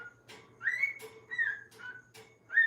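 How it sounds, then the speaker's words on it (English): A caged bird whistles in repeated rising and falling notes with short pauses between phrases, close and clear, with faint low knocking underneath. "He's like banging on a cage and he's whistling"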